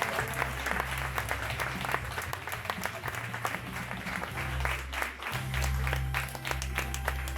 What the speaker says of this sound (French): on peut les applaudir très très fort.